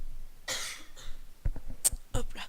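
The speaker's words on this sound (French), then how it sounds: "Désolé, on tousse un petit coup." Several harsh coughs in short bursts, close and fairly loud, with brief pauses between them, during a French Tekkit Lite gameplay session.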